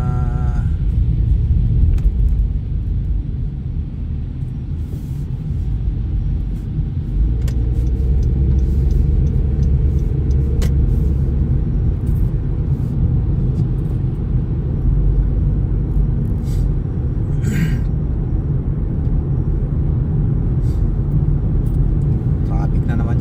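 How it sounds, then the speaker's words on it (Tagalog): Heavy road traffic rumbles steadily from inside a car, a loud low continuous drone of engines and tires that fills the whole stretch, with faint occasional clicks above it. "traffic na naman dyan"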